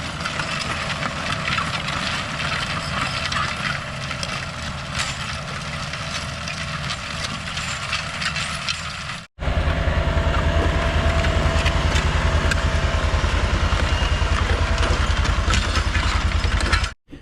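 A New Holland tractor engine runs at a steady idle on a farm, then cuts briefly and comes back louder and rougher for the remainder.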